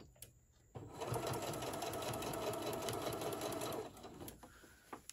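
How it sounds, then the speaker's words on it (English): A sewing machine runs in one continuous burst, top stitching around the edge of a fabric bowl koozie, a steady close mechanical whir with soft ticks and clicks of handling before and after. "I'm going to hold this in place and top stitch all the way around"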